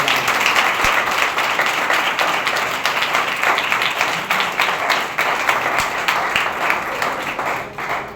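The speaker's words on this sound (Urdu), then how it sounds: "آئیں زوردار تالیاں بجائیں خدا کو بلائیں" A church congregation at a Sunday service claps loudly and continuously, a dense wash of many hands that carries on throughout with little letup.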